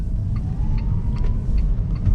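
A JAC E-JS4 electric car drives along with a steady low road rumble and tire noise from inside the cabin, a faint electric whine rising beneath it and light clicks over the top.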